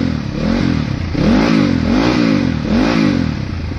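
A dirt bike engine, started again after sitting unused for a long time, revs in three rising and falling pulses over a steady rough idle, close and loud, with no talking.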